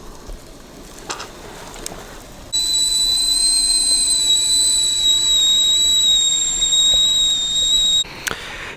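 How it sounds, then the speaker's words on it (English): A kettle whistles on a Coleman camp stove beside a river, a steady high-pitched shrill tone starting partway through and holding for several seconds before cutting off, over faint outdoor background noise. "Got the kettle all fired up right there."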